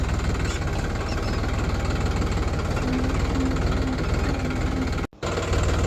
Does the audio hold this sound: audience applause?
no